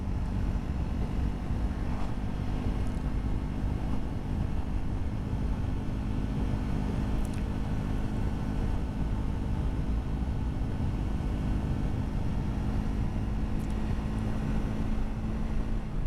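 A Triumph Scrambler 400 motorcycle riding in 4th gear at high revs, a steady engine drone mixed with heavy wind rush, constant and loud throughout with no talking.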